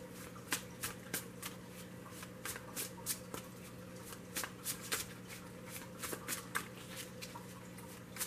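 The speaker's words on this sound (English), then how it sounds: "I've already pre-shuffled these a couple times for you as well." A deck of tarot cards is shuffled by hand close up, giving a series of quick riffling bursts and soft snaps at an irregular pace over a quiet, faint background hum.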